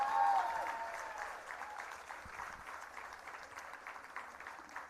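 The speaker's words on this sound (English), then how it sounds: "Can we have a louder cheer for this bundle of energy here?" Audience applause and cheering at a live Bharatanatyam arangetram dance recital, a dense wash of clapping with a loud cheer at the start that settles into steady sustained applause.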